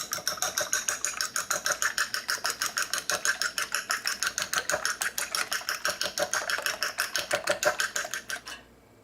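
A couple of eggs are beaten in a bowl, a fast steady rhythm of whisking taps and clatters repeating close up for several seconds before stopping, with no talk.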